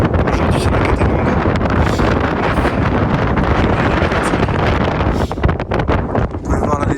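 Strong wind buffets the microphone high on Acatenango volcano in Guatemala, a loud, continuous roar with gusty surges throughout.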